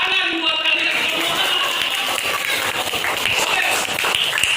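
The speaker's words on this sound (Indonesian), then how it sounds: "Kata Pak Guru, tepuk tangan buat kalian semua." Schoolchildren in an elementary classroom applaud together, a dense, steady patter of many small hands with young voices mixed in, filling the whole stretch at an even loudness.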